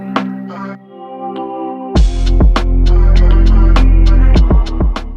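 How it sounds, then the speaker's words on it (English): Reversed piano bar used as a song transition, swelling in from a soft sustained tone before cutting into a loud, full beat with sharp repeated percussive hits and steady low bass. "I just took it, reversed it, and I just kind of faded it in"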